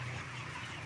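Broiler chickens, 33 days old, clucking in a fully automatic closed-house coop, a steady dense murmur of many birds over a constant low ventilation hum.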